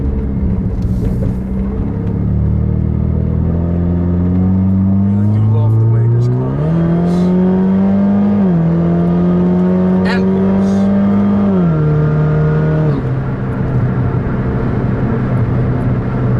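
A sports car engine climbs through the revs in rising steps, loud and close, with gear shifts between pulls; someone talks briefly over it.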